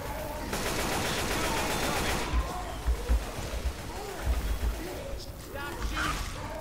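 Gunfire in the Left 4 Dead 2 Dark Carnival level during a realism versus match, with repeated bursts of shots and thuds of varying loudness over a steady noisy game background, joined by brief voices.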